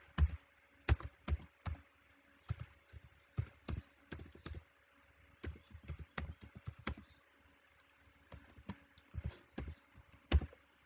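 An email address and password are typed on a computer keyboard. Crisp, close keystroke clicks come in irregular bursts separated by short quiet pauses, with no voices.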